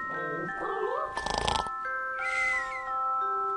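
A cartoon cat sound effect in the Game & Wario video game, a short burst of rhythmic pulses among bright synthetic game tones and chimes, loud and close with no speech.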